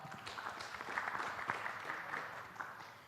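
An audience at a housing expo panel applauds a panelist, a faint, steady patter of clapping heard from a distance, brief and low in level.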